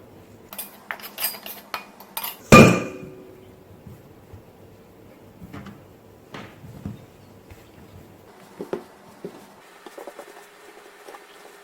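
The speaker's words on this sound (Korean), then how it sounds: "이제 반죽을 해주겠습니다." Bread dough for an onion cheese loaf is worked by hand in a bowl, giving soft sticky pats and squelches with a sharp clatter of a bowl or utensil early on, all fairly quiet with no talking.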